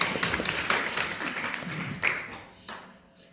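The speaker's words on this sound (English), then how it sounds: "Let's give her a round of applause." An audience at a devotional quiz gathering claps steadily, with a soft, fairly faint patter that thins out and fades over a few seconds.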